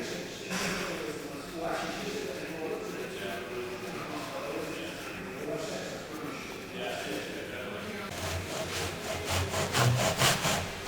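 A tenon saw cuts wooden skirting board clamped in a miter box, making steady rasping back-and-forth strokes close by that grow louder and more rhythmic toward the end.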